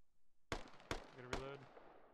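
A grenade detonates in a military combat video game, giving sharp, punchy bangs with a short ringing tail that sound fairly distant and faint, with no talk over them.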